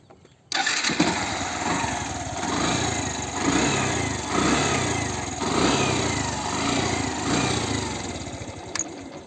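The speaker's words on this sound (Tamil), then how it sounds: "இப்போ என்னோடய வண்டியோட சவுண்டை வந்து நான் உங்களுக்கு காட்டுறேன்" An engine cranks and catches, then runs loud and close with a pulsing, slightly uneven idle that rises and falls before cutting off.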